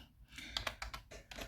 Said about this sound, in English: So let me type